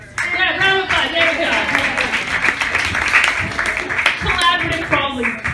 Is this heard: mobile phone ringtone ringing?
no